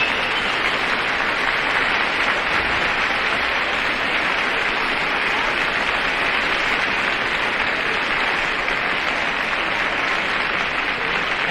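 A live audience applauds a performer at a 1962 campus concert, a dense, steady wash of clapping held at full loudness for the whole stretch with no voices over it.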